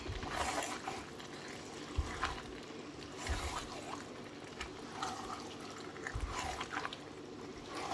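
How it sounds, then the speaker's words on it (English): Spinach stew with beef is stirred in a pot, producing quiet wet sloshing and scraping with a few soft knocks of the spoon against the pot, close by. "Going to stir it up."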